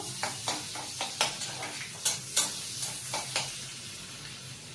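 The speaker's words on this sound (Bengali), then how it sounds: "পেঁয়াজটা ভাজা পর্যন্ত একটু অপেক্ষা করবো, একটু লাল লাল করে ভেজে নেবো" Onions fry in a pan on a home stove with a soft, continuous sizzle, broken by a series of sharp scraping taps as a spoon stirs them.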